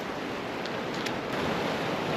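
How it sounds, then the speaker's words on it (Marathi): White surf breaking at Tondavali Talashil beach on the Konkan coast, a steady broadband wash of waves that swells slightly toward the end, with no talking. "अशा लाटा पांढर शुभ्र लाटा आहे"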